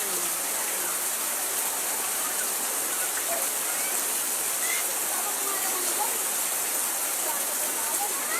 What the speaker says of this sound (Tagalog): malakas po ang tubig, ulan dito po sa amin.